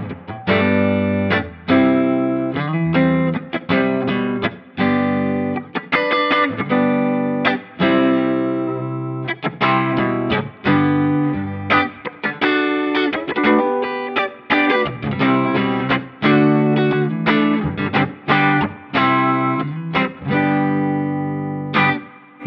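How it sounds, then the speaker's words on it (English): An electric guitar plays chords and riffs through a Seymour Duncan Vapor Trail Deluxe analog delay pedal set to a very short delay, giving a tight, doubled-tracked sound. Each stroke rings clearly with brief gaps between phrases, and no one speaks. "we start getting some really tight sounds to get almost in like a double tracker kind of sound here"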